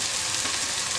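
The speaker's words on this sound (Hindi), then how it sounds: "अब हम अदरक लहसुन का पेस्ट डाल देंगे" Ginger garlic paste going into a pan of softened frying onions gives a brief, dense, steady sizzle and hiss, close and fairly loud, with no talking.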